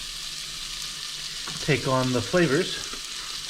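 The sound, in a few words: peppers frying and sizzling in a pan for ragu sauce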